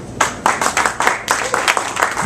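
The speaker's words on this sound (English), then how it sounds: "Give him a round of applause." A short burst of audience applause for a live performer, close, lively clapping from a small crowd with distinct individual claps.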